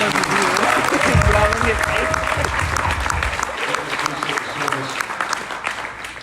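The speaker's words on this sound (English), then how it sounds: "let's give them a round of applause" An audience applauds steadily for armed forces veterans at a live speaking event, dense clapping that carries for the whole stretch with voices and cheering mixed in.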